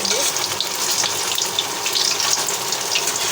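Fish balls frying in hot oil in a pan, a loud steady hiss and crackle of sizzling bubbles throughout, close up and without talk.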